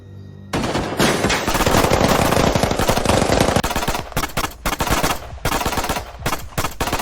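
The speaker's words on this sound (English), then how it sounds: "Someone's gun just went off." Sudden automatic gunfire in a predawn battle in the Maldives in 1988: a loud, sustained rapid burst of shots that breaks into choppy, irregular volleys, close and dominant.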